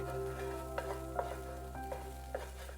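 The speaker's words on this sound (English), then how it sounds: "Extra firm tofu. Saute for another couple of minutes." Extra firm tofu is sautéed in a pan, with a steady sizzle under repeated scraping strokes of a utensil against the pan, a low hum running throughout.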